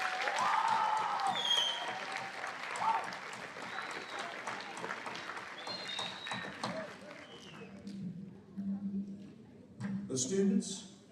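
A school audience at an eighth grade awards ceremony gives award recipients a round of applause, clapping loud and dense before tapering off, with scattered voices and small bumps as it dies away.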